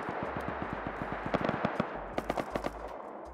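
Bursts of AK rifle gunfire in the survival game Rust, a quick volley of sharp shots with louder, closer cracks near the end, no talking.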